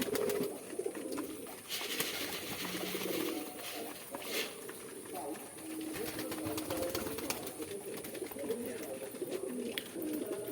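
Pigeons coo on a farm, a low murmuring chorus that carries on steadily under a broad hiss of background noise.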